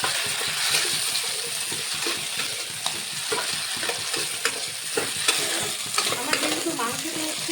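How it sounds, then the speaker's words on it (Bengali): Browned onions and chopped tomato with cumin powder, garlic and salt fry in a pan, a steady loud sizzle broken by repeated scraping stirs of the spoon, with no voices. "আমার পেঁয়াজটা লাল লাল ভাজা হয়ে গেছে এখন দেবো টমেটো কুচি"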